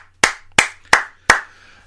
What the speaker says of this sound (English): gotta give him a round of applause for that one.